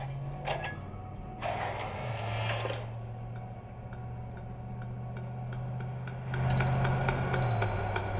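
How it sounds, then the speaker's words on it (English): A shaman in the video game Nine Sols rings a bell, bright metallic chimes standing out over a low, steady droning hum, with a brief burst of ringing tones near the end. "And that's the shaman ringing a bell."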